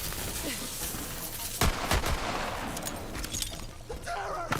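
Rapid gunfire in Borderlands 3, bursts of shots cracking over a dense, noisy game mix with loud impacts near the middle and end.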